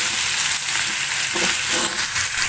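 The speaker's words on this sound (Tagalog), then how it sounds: "So, igisa na po natin yung chicken feet natin." Chicken feet sautéing in a pan, a loud, continuous sizzle and crackle with faint stirring scrapes, heard up close without any voices.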